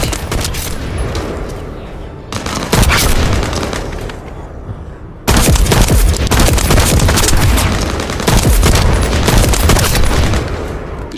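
Gunfire from the video game The First Descendant, with heavy booming shots and bursts fired in fast, dense volleys that drop out briefly and then resume at full loudness, with a few voices under the shooting.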